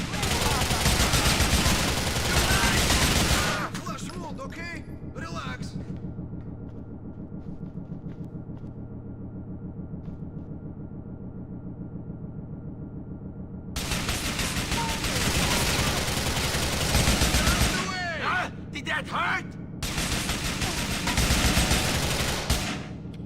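Sustained automatic gunfire in Grand Theft Auto IV comes in long, dense bursts, loud and close, broken by a quieter rumbling stretch before the shooting resumes.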